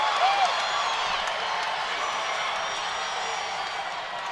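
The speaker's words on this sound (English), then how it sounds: "crowd's loving it" A crowd at an MMA main event roars steadily, a dense, sustained wash of cheering and whooping that holds level for the whole stretch without breaks.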